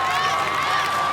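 A wife cheers on her husband, an American Ninja Warrior competitor, her voice lost in a dense, continuous crowd roar that stays loud and even for the whole moment.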